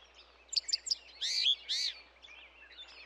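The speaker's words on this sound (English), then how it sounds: "I want to be just like that bird, sitting on that branch." A bird on a branch chirps: a quick run of three or four bright tweets, then two longer sweeping calls and a few fainter chirps, clear and alone against a quiet background.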